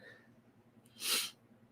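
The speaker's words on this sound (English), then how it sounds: "I was trying to have a sneeze there and didn't want to do it on camera" A single sharp, breathy sneeze bursts out after a quiet stretch, brief and fairly close, with faint background hum around it.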